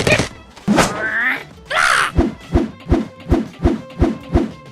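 Angry Birds remake video game with Hal the bird: cartoon bird vocalizations, a squawk, a rising-falling cry and a whooshing call, followed by a run of evenly spaced bouncing thumps, loud and with no talk.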